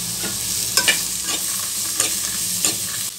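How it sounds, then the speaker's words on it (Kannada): Ingredients for butter mushroom masala fry in a pan, a close steady sizzle with repeated scraping stirs of a spatula, and no talk. "ಸ್ವಲ್ಪ ಬಣ್ಣ ಬರೋ ತನಕ ಇದನ್ನು ಫ್ರೈ ಮಾಡಿ"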